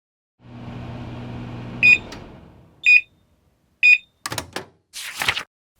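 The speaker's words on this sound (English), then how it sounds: "Microwave goes beep beep." A microwave oven hums for over a second, then gives three short evenly spaced electronic beeps, followed by clunks of its door opening.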